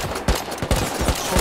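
Rapid gunfire in the survival video game Rust, several sharp shots in quick succession over a dense, noisy background, fairly faint overall.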